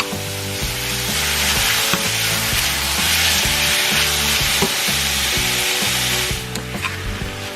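Thinly sliced bulgogi-style beef for beef with broccoli frying hard in a pan, a loud steady sizzle running throughout with a few scraping stirs near the end.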